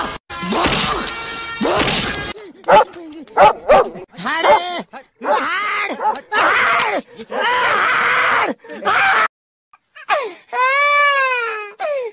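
A dog barks, growls and whines in a rapid string of loud, close outbursts separated by short pauses, ending with a drawn-out, pitched whimper.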